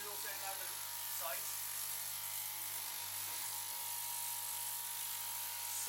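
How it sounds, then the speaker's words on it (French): A fabric-cutting machine runs steadily in a Turkish clothing factory, giving a continuous buzzing whine with a faint hum under it, while a voice talks over it. "Alors là, on assiste à la découpe du tissu."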